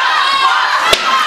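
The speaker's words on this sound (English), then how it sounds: "This crowd chanting for Buck." Wrestling crowd at a live Legacy event chanting together, a loud, dense roar of voices filling the hall with one sharp thud partway through.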